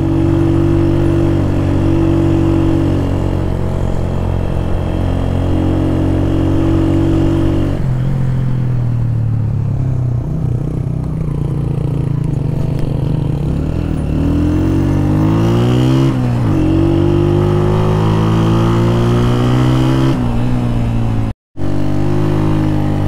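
A Honda CG 125 SE motorcycle engine labours up a steep mountain road, steady and loud close by, with its pitch rising and falling as the rider shifts and climbs, and a brief dropout near the end.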